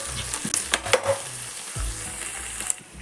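Ginger garlic paste sautéing in a pan for a paneer gravy, a soft steady sizzle with a few sharp scrapes and clicks of stirring, fairly close and without talk.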